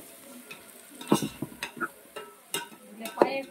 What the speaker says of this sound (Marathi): आता याला परतून घ्यायचं आहे